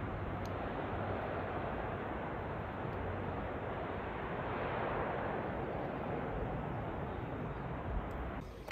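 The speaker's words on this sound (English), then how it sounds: "you can see the water just cascading down on the man-made waterfall from one reservoir to the next" Water cascades down a man-made waterfall from one Longdendale reservoir to the next, giving a soft, continuous rushing wash heard from a distance with some wind, and no voices.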